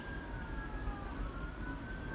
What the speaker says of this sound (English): you probably can hear the sirens in the background of my lovely city